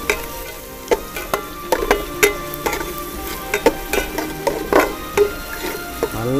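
Small onions fry in coconut oil in a pan. A soft, steady sizzle runs under repeated scraping and clinking of a stirring spoon, and no one talks.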